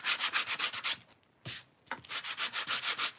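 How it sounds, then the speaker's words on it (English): Rhythmic hand sanding, quick back-and-forth rasping strokes in bursts with short pauses between, close and clear. "I think I'm just going to give this a light sanding."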